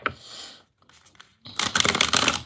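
Tarot cards are shuffled by hand in quiet, close bursts of riffling and rustling, with a brief pause between shuffles.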